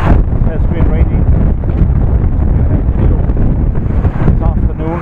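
Wind buffets the microphone during a bike ride on a windy, rainy day, a loud, rough, continuous rumble with gusty swells and no letup.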